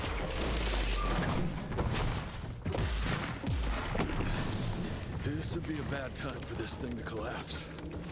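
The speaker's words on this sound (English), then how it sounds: "That sounds like gunshots." Gunfire and heavy booms from the action video game Evil West, a dense barrage of shots and impacts layered with game effects while a person talks over it.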